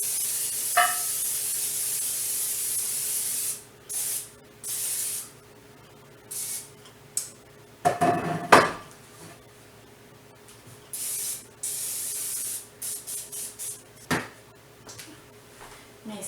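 Several bursts of aerosol cooking spray hissing onto a casserole dish in short and longer puffs, with a few clunks and handling noises between them.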